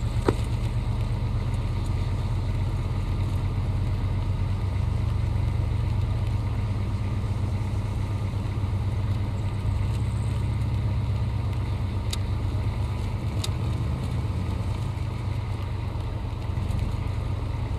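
Cars driving out of a build-up area, a steady low engine drone from vehicles moving at low speed, continuous and moderately close with faint wind noise.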